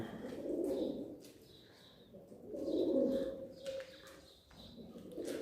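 Soft, low pigeon coos swell and fade in slow phrases inside a coop, with faint higher chirps and rustling nearby, no talking.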